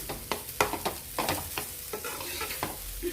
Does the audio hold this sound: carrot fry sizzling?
yes